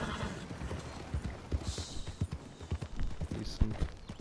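A tiring horse in the video game Red Dead Online trots with a quick, rhythmic clip-clop of hooves, steady and moderately close, with faint ambient background sounds.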